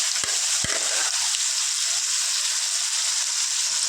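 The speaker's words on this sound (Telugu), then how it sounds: "దీన్ని ఇందులో వేసుకొని ఫ్రై చేసుకుందాం" Gongura (sorrel leaves) frying in oil for a mutton gongura pickle, giving a steady, close hiss of sizzling oil throughout, with a couple of brief low knocks near the start.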